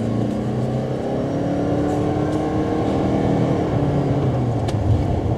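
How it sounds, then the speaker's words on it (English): A Toyota Venza Limited hybrid engine roars steadily at full throttle, a loud continuous drone with rising pitch, heard from inside the vehicle. "You're gonna hear the hybrid engine when you give it full gas"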